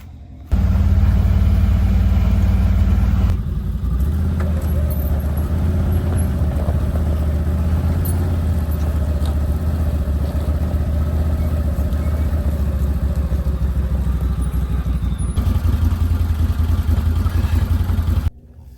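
A pickup truck engine idles loud and steady for a long stretch as it maneuvers to hook up a trailer, its tone shifting slightly near the start and again near the end.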